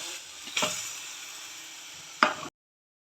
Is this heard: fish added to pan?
yes